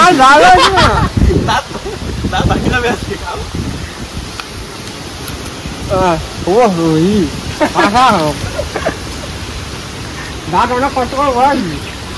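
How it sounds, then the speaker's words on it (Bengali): Heavy rain pours steadily during a stormy day, a constant wash of hiss beneath several people talking loudly in bursts. "বৃষ্টি আছে কিন্তু হেভি বৃষ্টি।"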